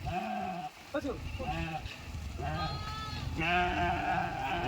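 Goats bleat repeatedly in a mixed flock of sheep and goats, a few wavering calls overlapping close by, with a voice speaking over them.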